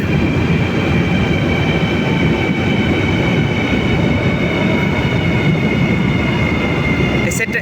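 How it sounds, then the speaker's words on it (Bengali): A high-speed bullet train's steady, loud rumble and rolling rail noise fill the whole stretch, with a faint high whine above, as it arrives close by at Guangzhou South railway station. "বিশাল বড় গুয়াংজু সাউথ, অনেক বড় রেল স্টেশন। ওই যে একটা ট্রেন আসছে।"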